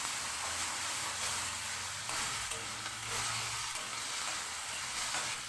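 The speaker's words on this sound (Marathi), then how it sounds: "कांदा सोनेरी कलर येईपर्यंत असा कांदा फ्राय करायचा" Chopped onions fry in a pan for paneer curry, a steady close, loud sizzle with faint stirring scrapes running throughout, no voices.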